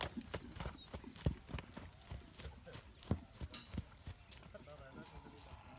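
Hooves of a Marwari stallion about 66 inches tall clip-clop irregularly as it runs free at a stud farm, thuds near and uneven amid background noise, with people talking throughout.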